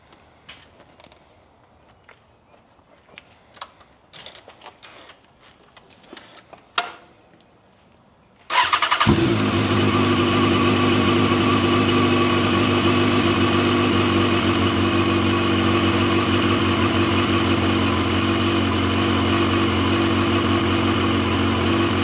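Mini four-wheeler ATV engine cranking to life after a few quiet clicks and knocks, then settling into a loud, close, sustained buzzing run that holds steady for over twelve seconds.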